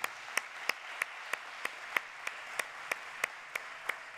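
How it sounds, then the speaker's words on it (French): A conference audience at the closing session of the 38th FNCCR congress claps in steady unison, sharp beats roughly three per second over a constant crowd wash, moderately loud and even throughout. "Vous pouvez l'applaudir."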